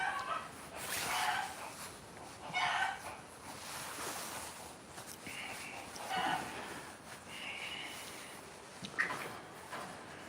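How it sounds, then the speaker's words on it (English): Chickens cluck in scattered, fairly distant bursts while a 550 hp Corvette is being fixed. Voices and steady background noise run underneath. "listen at the chickens"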